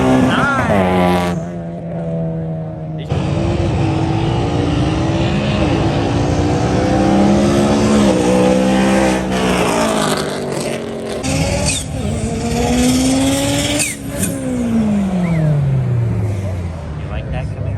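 A Camaro engine revs loudly at an import car show in Nashville, rising and falling in pitch amid a dense wash of other engines and crowd noise, with voices talking throughout.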